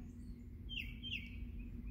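Faint birds chirp over a soft background hum, with a couple of short, high tweets standing out.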